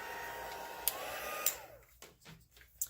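A heat gun blows a steady whirring stream as it melts embossing powder on vellum cardstock, then switches off, leaving a few faint clicks and handling sounds.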